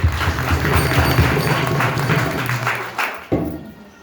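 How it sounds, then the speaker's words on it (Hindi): A village prayer meeting congregation claps loudly in a quick, rhythmic burst, with a low hum of voices or music underneath, before a brief pause and a final clap. "फिर से ताली मारेंगे जोर से"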